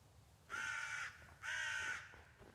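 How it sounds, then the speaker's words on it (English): A crow caws twice, each call a harsh, drawn-out squawk about half a second long, moderately distant against quiet background noise. "I don't even know where that crow was."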